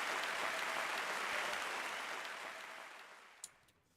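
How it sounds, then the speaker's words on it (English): Applause in the Steins Gate 0 visual novel game, a dense wave of clapping from an audience at a podium event that holds steady and then fades out, ending with a brief click. "There was a huge wave of applause."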